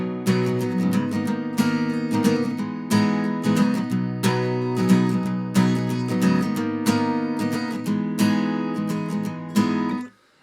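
Strummed acoustic guitar in standard tuning playing the chorus of a song, steady rhythmic down-and-up strokes ringing full chords, close and fairly loud, ending abruptly.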